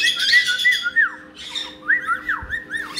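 A pet bird squawks loudly up close indoors, sharp shrill calls in quick bursts with brief pauses, with no one speaking.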